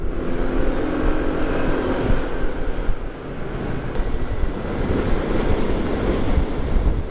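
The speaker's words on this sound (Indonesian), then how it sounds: "Soalnya suara angin udah kencang banget ini." Strong wind at Tanah Barak beach in Bali buffets the microphone in a loud, continuous roar, with rushing surf beneath and a brief dip midway. No one speaks.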